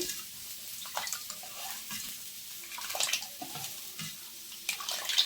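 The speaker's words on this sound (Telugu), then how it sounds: "ఉల్లిపాయలు వేసుకొని ఇప్పుడు మళ్ళీ పిండి ఒకసారి మళ్ళీ కలుపుకోవాలండి" A spoon works through rava batter with chopped onions, giving soft, wet sloshing and squelching sounds in close, uneven strokes at a quiet level, with no talking.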